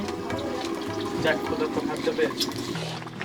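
Water poured into a washed garam masala bowl while mutton cooks for a Bengali curry: a short splash and trickle at close range, with voices present in the background.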